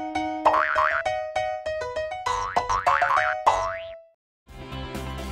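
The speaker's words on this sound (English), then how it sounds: "large buttons with flashing lights and fun sound effects" Electronic toy turtle with large light-up buttons playing a bright, bouncy boing-like sound effect melody, a short jingle that stops and briefly starts again, no talk.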